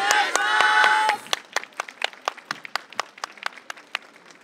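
An audience at a yosakoi dance festival claps steadily in time after a short burst of loud music, the sharp claps evenly spaced and fairly close.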